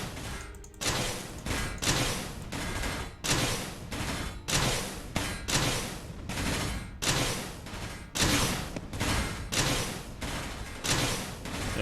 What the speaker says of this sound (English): let's kind of keep firing and see what we can do